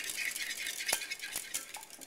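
Whisk clinking in a bowl while mixing vanilla extract for an apple cobbler, light quick metallic taps and rattles, close and fairly quiet, with no talking.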